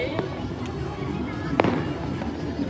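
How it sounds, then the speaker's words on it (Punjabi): Firecrackers go off during Basant Panchami celebrations, a steady crackle with a few sharper pops standing out, mostly distant, while people talk over them. "ਸਾਹਮਣੇ ਬੰਬ ਚੱਲ ਗਏ"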